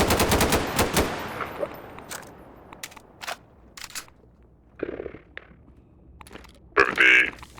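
A mirrored Counter-Strike M4 rifle fires in Garry's Mod, opening with a fast burst of loud automatic shots. Sparse single cracks and mechanical clicks of handling and reloading follow after the burst.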